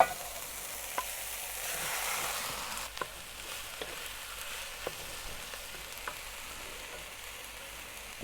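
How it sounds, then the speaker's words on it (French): Minced meat browns in a pan with a soft, steady frying sizzle, broken by a few sharp clicks and scrapes of a utensil, quiet and close. "On fait bien dorer la viande."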